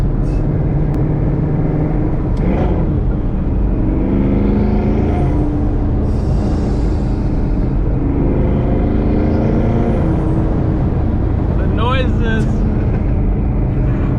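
A loud, close twin-turbo Mustang Boss 302 engine roars steadily as the car drives, with rising pitch sweeps through gear changes and a few brief voice sounds layered over it.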